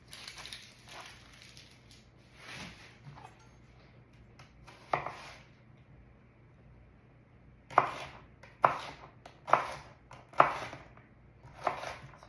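Knife thinly slicing vegetables for pickles on a board, a few quiet cuts early, then a run of five sharp, evenly spaced knocks near and distinct.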